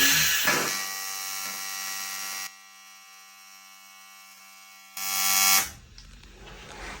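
A low-amp TIG welder runs an arc on metal, giving a steady electric buzz and hum that cuts out, goes quiet, then starts again, close and moderately loud, with no talking.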